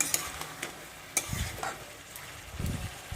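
Red amaranth greens stir-frying in a pan make a soft, hissing sizzle, broken by occasional spoon scrapes and light clicks against the pan.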